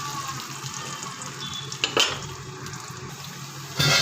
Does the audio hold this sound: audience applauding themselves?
no